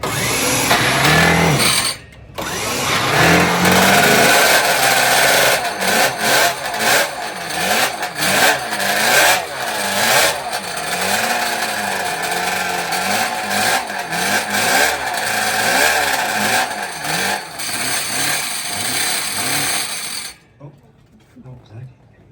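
A rare, exotic two-stroke motorcycle engine is started and revved hard, its loud, raspy note rising and falling in repeated throttle blips for about twenty seconds before cutting off abruptly, with voices faintly in the background.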